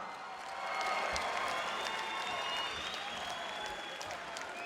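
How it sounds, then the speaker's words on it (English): A crowd at an MMA event cheers and applauds the fighters with sustained clapping and shouting that swells and then holds steady, sounding moderately distant in a large hall. "make some noise for your fighters this evening"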